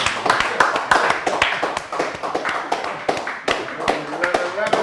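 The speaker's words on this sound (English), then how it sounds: "I say, clap for me." Studio audience clapping on a Nigerian talk show set, a dense run of sharp claps at steady loudness, with voices and laughter mixed in.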